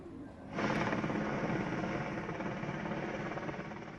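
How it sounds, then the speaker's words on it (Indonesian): A Puma helicopter's rotor and engine roar in abruptly and keep up a loud, steady thrum, with fast rhythmic chopping throughout, over a burning landfill. "Satu unit helikopter Puma milik Badan Nasional Penanggulangan Bencana (BNPB) kembali diterjunkan ke lokasi kebakaran"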